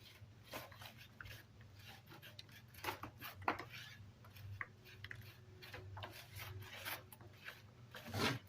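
Mortar joints are rubbed down by hand indoors with a quiet, uneven rasping scrape, short strokes repeating faintly and close by without talk.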